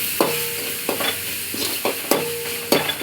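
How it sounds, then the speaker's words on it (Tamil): A masala paste of tomato, ginger garlic paste, turmeric, chilli powder, coriander powder and garam masala sautés for a chicken kulambu, with a steady close sizzle broken by repeated scraping stirs of a spoon against the pan. "இஞ்சி பூண்டு பேஸ்ட்டு, தக்காளி எல்லாம் போட்டு வதக்கணும்"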